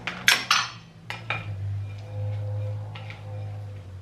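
Cooked rice with cilantro and lemon juice being tossed in a bowl, several sharp utensil clinks against the bowl at the start, then softer scraping and stirring with a low hum underneath.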